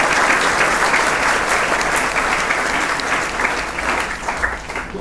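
A short burst of enthusiastic crowd applause at a public social-issues gathering, full and loud from the start and easing slightly toward the end.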